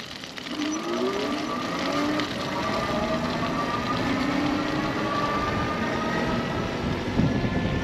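A Sun Seeker Fat Tad electric trike runs on its thumb throttle, a steady whirring motor drone mixed with rushing wind noise that holds for several seconds.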